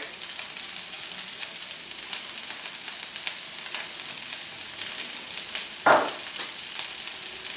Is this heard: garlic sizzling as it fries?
yes